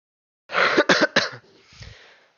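Three sharp coughs in quick succession, close and loud, followed by a softer, rougher throaty rasp trailing off.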